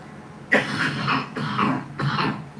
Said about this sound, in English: I'm so sorry for my coughing on you guys.